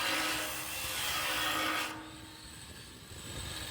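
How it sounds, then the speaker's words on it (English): A 9-inch grinder cuts a 500 mm pipe on a work site, giving a steady harsh rasping grind. It shifts to a duller tone partway through and stays continuous throughout. "Also make sure that the grinding disc is secure to the 9-inch grinder."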